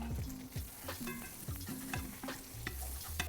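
Buttered sandwich bread fries in a pan, a steady close sizzle with repeated scraping and stirring knocks from a utensil.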